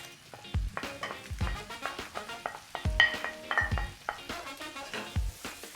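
Spices such as galangal, turmeric, kaffir lime leaves and cinnamon sizzling in a pan for Thai Massaman curry, with close, repeated stirring scrapes and clatter over a steady frying hiss, no talk.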